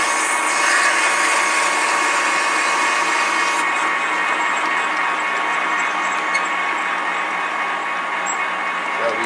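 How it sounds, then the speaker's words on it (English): A power drill bores a 3/4 inch hole through a washer for a 3/4 inch axle in a custom wheel shop, giving a steady, loud whirring grind that holds for several seconds without a break. "First we're just gonna drill our hole through it."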